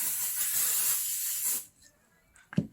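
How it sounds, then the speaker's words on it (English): Temporary spray adhesive sprays from an aerosol can in a steady, close hissing burst lasting about a second and a half, then cuts off, followed by a faint clunk as the can is handled. "Use a little bit of temporary spray adhesive, which is this."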